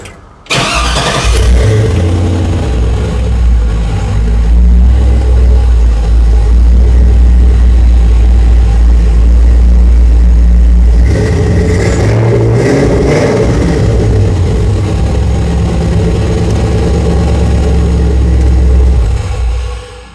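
An LS V8 engine in a hot rod cranks and fires up loud and close, then rumbles at a deep idle with a sharp rev partway through before settling again.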